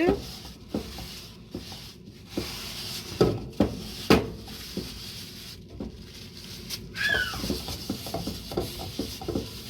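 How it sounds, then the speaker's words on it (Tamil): A kadai cooking pan being wiped clean, giving intermittent scraping and rubbing strokes with a few sharp knocks, close by and irregular, while a person talks in the background. "இப்போ இதே சட்டியை திருப்பி துடைச்சிட்டு"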